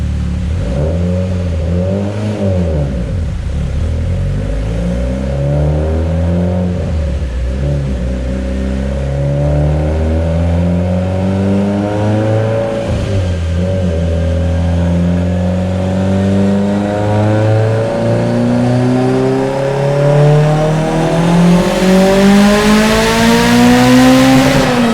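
A Mitsubishi EVO X with a 2.2-litre big-bore sleeved engine revving hard toward 7,800 rpm, loud and close, the pitch climbing in long sweeping pulls with dips between them before a final high scream.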